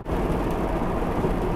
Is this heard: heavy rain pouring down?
yes